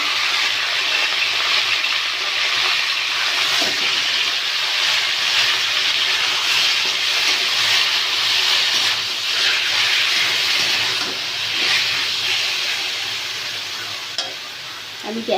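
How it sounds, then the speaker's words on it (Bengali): Chicken pieces frying in a couple of spoons of hot refined oil for restaurant-style mixed fried rice, a steady dense sizzle and crackle close by, continuous and fairly loud, fading slightly near the end with a few stirring clinks. "চিকেনগুলো আমি ভেজে নেব।"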